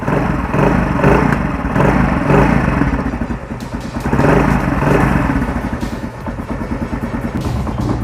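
A motorcycle engine with adjusted spark plug side gap runs steadily nearby, a loud rumbling idle with slight rises in revs and a faint mechanical clatter throughout.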